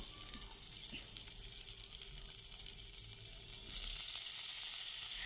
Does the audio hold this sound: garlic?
yes